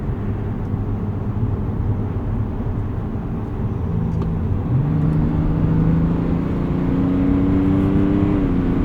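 A 2024 Chevrolet Silverado 1500 ZR2 with the 3.0L Duramax diesel accelerates out of a corner in sport mode, heard from inside the cab as a steady low drone whose tone climbs smoothly as it gains speed.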